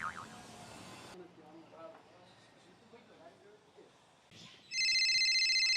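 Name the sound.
telephone ringing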